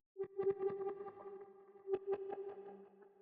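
Electric guitar passed through a Pan Man auto-panning effect for movement and width: a repeated, pulsing note with rhythmic accents, fairly steady and moderately loud, with a second cluster of strikes partway through.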